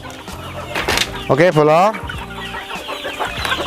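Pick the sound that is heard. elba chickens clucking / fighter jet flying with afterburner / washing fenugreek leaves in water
elba chickens clucking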